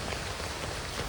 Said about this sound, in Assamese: কেনেকুৱা বৰষুণ বতৰ চাওক না